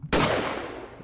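A single sharp gunshot in the horror video game The Glass Staircase, a loud sudden crack after a brief quiet moment, followed by a decaying reverberant tail.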